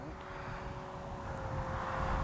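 Durafly Rare Bear RC airplane engine running at about one-third throttle, a steady droning hum with a faint propeller whine, holding constant and swelling slightly toward the end, with no talking.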